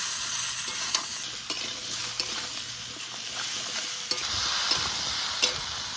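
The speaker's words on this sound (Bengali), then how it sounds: "তো লাউটা একটু ভেজে নেবো।" Bottle gourd and potatoes with salt, turmeric and green chillies fry in a pan: a steady soft sizzle broken by occasional sharp scrapes and taps of stirring.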